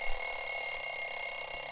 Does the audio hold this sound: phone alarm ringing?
yes